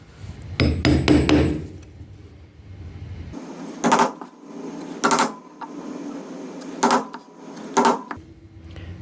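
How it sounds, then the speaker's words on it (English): A quick flurry of light metallic taps, then several sharp hammer strikes on a center punch spaced about a second apart, ringing on metal nearby, marking guitar tuner holes for drilling. "I'm going to center punch because I want that drill bit to follow that mark."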